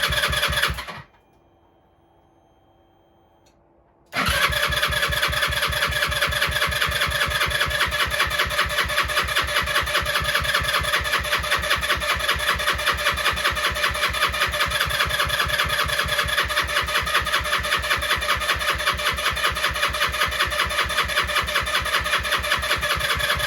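A Lexmoto 125 motorcycle, just rebuilt after a heat seize with its fuel injection taken apart, cranks briefly, falls silent for about three seconds, then the starter grinds on in a long, steady, rapid churning rhythm without catching, loud and close.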